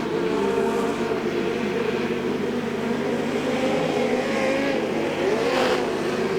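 Speedcars racing in an Australian title A-Main at Archerfield Speedway, a continuous loud roar of several engines revving and droning around the track with no break.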